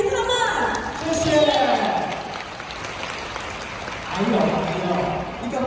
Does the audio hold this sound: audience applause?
yes